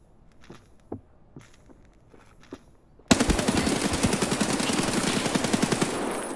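Gunfire in Escape From Tarkov: a few scattered single shots and footsteps at first, then a loud, sustained rapid-fire burst of automatic shots that runs continuously to the end.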